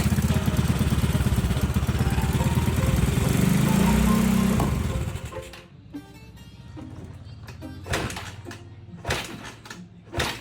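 A Yamaha Mio scooter engine, noisy with a grinding rattle, runs roughly at close range: a loud, uneven chugging idle for about five seconds, then cutting out to scattered knocks and clatter.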